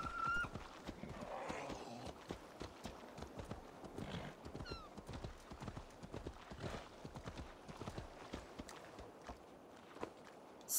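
Horse hooves clip-clop at a steady walking pace in a video game, with a short whinny near the start.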